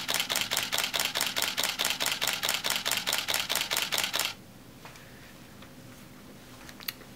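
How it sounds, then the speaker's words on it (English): A Canon T4i DSLR shutter fires in a rapid continuous burst, about twenty evenly spaced sharp clicks in roughly four seconds, loud and close, then stops abruptly leaving quiet room tone with a faint click near the end. "I'm going to hold down the shutter, and it's in continuous mode."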